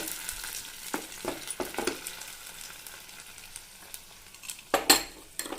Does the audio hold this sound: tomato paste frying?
yes